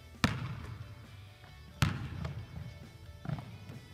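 A basketball bounces on a court during a reverse layup drill, giving three separate thuds spaced over a few seconds, the first two sharp and loud and the last softer.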